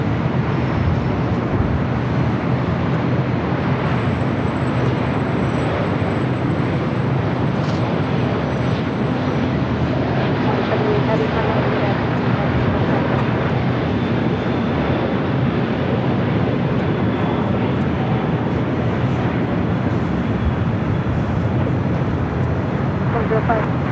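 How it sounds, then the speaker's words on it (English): Broad, continuous jet roar of an American Airlines Boeing 777-200ER landing at LAX, steady and fairly loud against an airport backdrop with wind buffeting, heard from outdoors for the whole span. "We got that American 777-200ER coming in from London Heathrow."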